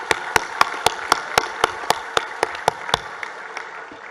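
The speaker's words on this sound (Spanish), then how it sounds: "Un aplauso." Evenly spaced, sharp claps at a rural public gathering for a state governor in San Luis Acatlán, Guerrero, about a dozen strong beats in rhythm before trailing off into quieter scattered taps.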